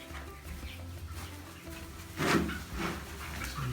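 Chickens clucking inside a small backyard coop, a few soft intermittent clucks with one louder burst midway, close by over a low background hum.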